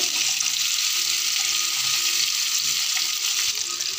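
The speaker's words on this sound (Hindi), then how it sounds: "आलू को भी हम इसमें भूनेंगे।" Potatoes fry in oil for jeera aloo, a dense, steady, close sizzling hiss that continues without break.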